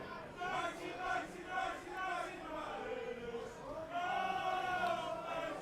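Supporters at a Northern Premier League football match between Marine and Ashton United chant and cheer in rising waves. The crowd noise is distant and faint, with a commentator's voice on top.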